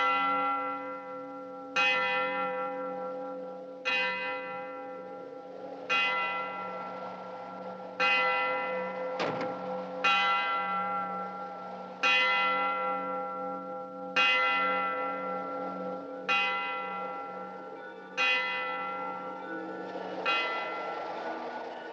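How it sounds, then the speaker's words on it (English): A church bell tolls about ten times at a slow, even pace, each strike ringing out and fading before the next. It is loud, resonant and alone, with no talking. "did you hear the bell?"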